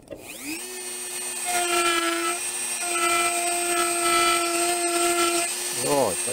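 A Dremel rotary tool spins up with a rising whine and gouges into a carved wooden whirligig rower figure, holding a loud, steady high-pitched grind for several seconds before spinning down.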